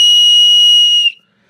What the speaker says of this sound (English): I'm getting ready to blow the whistle